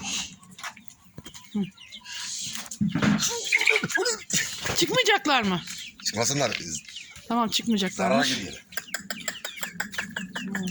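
Thirteen young broiler chickens cluck and cheep in a farmyard with intermittent nearby calls, while people talk in Turkish throughout.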